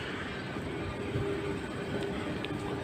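Continuous low rumble of trains and station machinery fills Glen Waverley train station, with construction works nearby, steady and moderately loud without distinct events.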